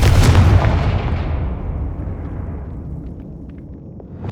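A fire spell in the Hogwarts Legacy video game goes off as a loud, close boom. Its heavy rumble fades slowly over several seconds, with faint clicks toward the end.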